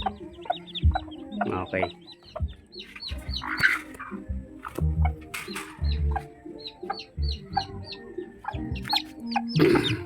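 Chicks and hens cluck and peep in quick, scattered bursts as the birds are moved down to the ground, close by, with someone speaking briefly among the calls and some rustling.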